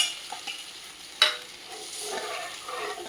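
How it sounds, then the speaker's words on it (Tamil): Milk being poured into hot ghee in a pan, sizzling steadily while a spoon stirs and scrapes, with one sharp clink near the start, close and moderately loud with no voices. "இப்போது இந்த பாலை எடுத்து கொஞ்சமாக ஊற்றுவோம். இந்த நெய்யிலே ஊற்றணும்."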